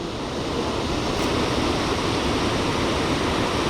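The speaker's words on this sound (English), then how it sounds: "we already got ourselves our first waterfall of the day." A mountain waterfall in China gives a steady, loud broadband rush of falling water that runs unbroken throughout.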